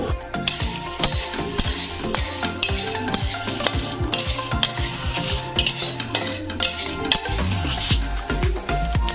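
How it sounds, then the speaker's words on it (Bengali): A metal spatula clinks and scrapes repeatedly against a dry wok while coriander powder, asafoetida and other spices are dry-roasted, a busy run of close, sharp taps with no talking. "এই সব মশলাগুলোকে শুকনো কড়ায় ভেজে নেব।"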